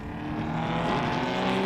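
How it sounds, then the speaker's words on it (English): A Ferrari Dino racing car engine howls at Donington Park during a historic Masters race meeting, a loud sustained high-revving note with strong layered harmonics that rises gradually as the car passes close by, with no talk. "The Ferrari engine sounding glorious."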